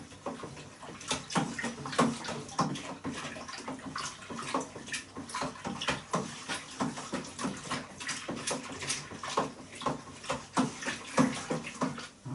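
Sugar being stirred into a cider mixture in a fermenter gives continuous sloshing and swirling liquid sounds with rhythmic splashes, fairly faint, with no talk.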